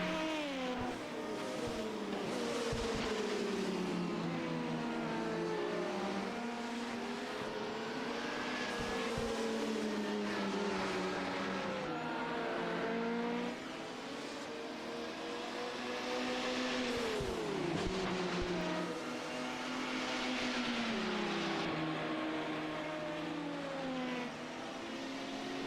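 LMP1 and LMP2 sports prototype race cars at Spa roar past with high engines rising and falling through gear changes, several cars overlapping in a continuous loud drone across the whole stretch.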